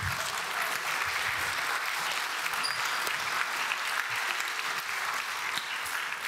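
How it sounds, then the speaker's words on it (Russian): Dense audience applause in a hall at the closing of the Joker 2023 conference, continuous loud clapping from many people with an even, unbroken texture. "Аплодисменты."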